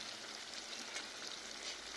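Paneer fries in a pan with a steady, even sizzle that is close but fairly quiet and continues without a break and without any talk.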